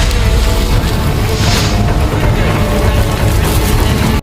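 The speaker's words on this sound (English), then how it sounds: "But things get out of hand when the fire spreads to a gas tank nearby, triggering a massive explosion." A massive explosion as fire reaches a nearby gas tank, heard as a loud, sustained roar and rumble that fills the whole stretch, with dense low booming and crackling throughout.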